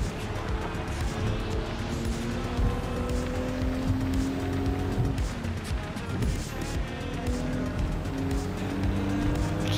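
A 1997 Toyota Supra RZ races on the Tokyo highway in Gran Turismo 7, its engine droning continuously with shifting pitch, tires squealing and other cars roaring around it, loud and sustained without talk.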